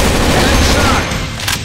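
Dense, loud gunfire from a sniper rifle and machine guns in the CrossFire shooter game, with rapid overlapping shots in a continuous burst that eases slightly near the end.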